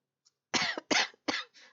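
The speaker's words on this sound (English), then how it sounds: "sorry, try not to cough," Three sharp, close coughs in quick succession, followed by a softer, shorter fourth cough.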